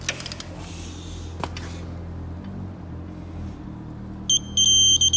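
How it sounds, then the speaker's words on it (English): A digital torque wrench gives a short series of bright electronic beeps near the end, reaching the 50 Nm setting while tightening timing chain parts on a BMW Mini N-series engine, with faint workshop clatter and hum before it and no talking. "When I get to that, it'll beep."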